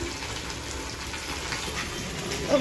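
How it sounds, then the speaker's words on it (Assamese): Jackfruit seeds frying in oil with turmeric, salt and chili powder give a steady, close sizzle with soft crackling throughout, with no talking. "আজি কঁঠালৰ গুটি ভাজিম"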